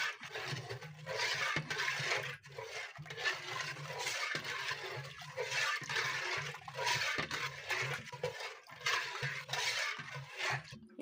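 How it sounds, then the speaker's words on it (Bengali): Sour yogurt poured into milk and stirred together in a pot, giving repeated close sloshing and liquid swirling strokes in a steady rhythm with short breaks, without any talk. "টক দই ঢেলে দিচ্ছি।"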